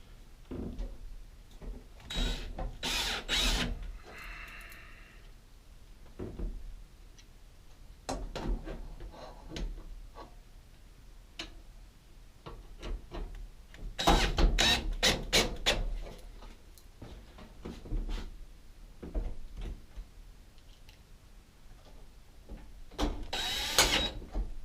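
A power drill drives screws into a dryer's rear panel in several short bursts between quiet stretches of handling clicks and clatter, close by and fairly faint.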